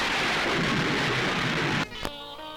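Heavy rain of a stormy night thunderstorm, a dense loud roar that cuts off abruptly near the end and gives way to a brief tonal sound.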